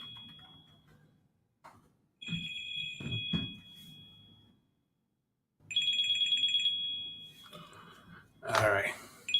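A phone ringtone rings in bright repeating bursts, pausing between rings, with a person speaking in between and over the tones.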